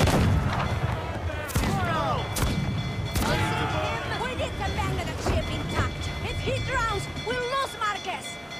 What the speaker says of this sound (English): I hope I didn't kill him in any of those explosions